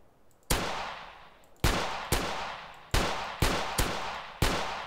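Six loud gunshots in the video game Grand Theft Auto ring out at uneven intervals, each a sharp crack followed by a lingering echoing decay, with no talking.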